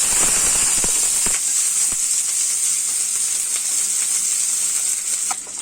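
Ginger and onion frying in hot oil for an Indian inji kulambu curry, a loud, steady sizzle with scattered crackles and pops running the whole time, close up and with no talking.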